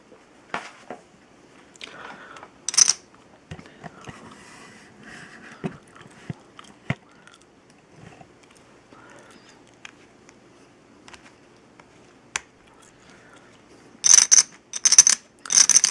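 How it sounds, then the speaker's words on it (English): Dice-style poker chips being shuffled by hand, sharp clacking taps scattered through a quiet stretch, then short loud bursts of clattering chips near the end, close up with no talking. "So let's shuffle some chips compared to the dice chips."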